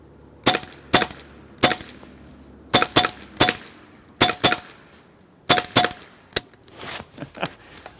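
Shots from a Hasan semi-automatic .22 calibre 5.5 mm PCP air rifle, sharp close cracks in quick pairs and short strings with brief pauses between groups, no talking.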